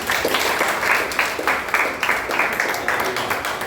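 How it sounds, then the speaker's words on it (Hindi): A congregation applauds in a church service, a steady wash of many hands clapping at moderate loudness with a few sharper claps standing out, and faint voices beneath. "अभी आपके लिए तालियां मारेंगे"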